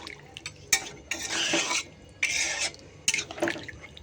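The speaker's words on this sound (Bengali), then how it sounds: "চলো একটু নাড়াচাড়া করি" Meat curry in a pot being stirred after water is added, with three bursts of scraping, swishing spoon strokes against the pot separated by brief quieter pauses, close and moderately loud with no talking.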